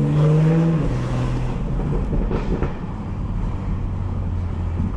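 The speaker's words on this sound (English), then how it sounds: "This is some downshifts." A 2018 BMW 440i xDrive engine drops through downshifts while driving in New York City, a loud, close tonal whine stepping down in pitch at the start, then a steady engine drone over road rumble.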